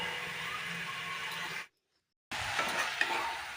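Drumsticks (sajna) stir-fried with onion and spices in a pan: a steady close sizzle with stirring scrapes, broken by a brief silent gap before the frying resumes.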